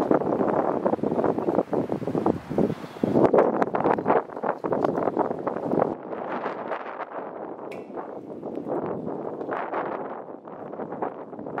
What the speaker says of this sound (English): That wind is brutal out there.